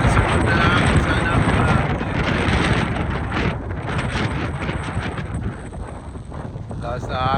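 Strong wind buffeting the microphone outdoors in Bermuda, a continuous heavy rushing roar that eases slightly toward the end, with a voice faintly speaking under it.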